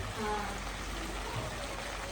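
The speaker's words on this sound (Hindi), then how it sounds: "आवाज़ तो आ रही होगी ना बारिश की?" Rain falls outside a home with the windows shut, a steady, faint hiss of drops in the background that persists for the whole stretch with no clear speech over it.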